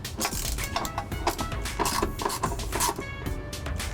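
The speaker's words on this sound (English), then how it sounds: "By using a 7/16 socket and wrench." Hardware on a Purkeys inverter tightened with a 7/16 socket and wrench, giving a dense run of close mechanical ratcheting clicks and metallic rattle that stays steady throughout, with no talk.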